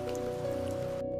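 Steady rain pattering down in a short, even wash of noise, with a low hum running underneath.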